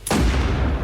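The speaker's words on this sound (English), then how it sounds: "When he hears an explosion," A single loud explosion, used as a sound effect in a crime documentary, hits with a sudden sharp blast and then settles into a low rumbling decay, with no talking.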